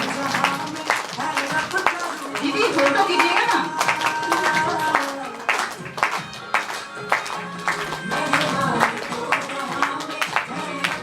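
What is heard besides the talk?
audience clapping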